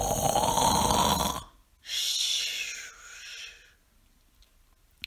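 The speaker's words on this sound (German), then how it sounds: "schlief ein und fing laut an zu schnarchen" A wolf snores loudly and raspily for over a second, followed after a pause by a hissing, breathy exhale, then quiet with a faint click at the end.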